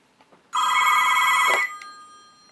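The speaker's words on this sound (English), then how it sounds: "And the bell one you hear ringing is the pay phone." A loud mechanical bell of a vintage pay phone rings in one sustained burst of about a second, then cuts off, leaving a faint fading ring; no voices.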